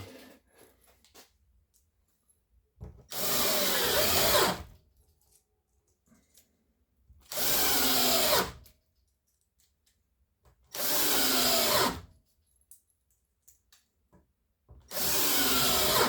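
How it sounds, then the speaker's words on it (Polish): A nine-year-old cordless drill driver sinks 45 mm screws into a wooden door frame in four separate loud, close bursts of about one and a half seconds each, separated by near-silent pauses. "przystępujemy teraz do kręcenia wkrętów, także to są 45 mm"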